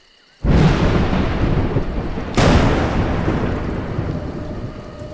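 Thunder booms in the atmospheric puzzle-platformer game A Juggler's Tale, two loud rolling cracks that strike suddenly and rumble on, the second as loud as the first, with a rainy storm wash behind them.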